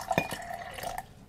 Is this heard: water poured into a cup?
yes